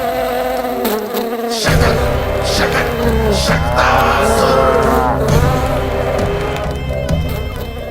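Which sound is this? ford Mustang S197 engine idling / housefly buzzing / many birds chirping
housefly buzzing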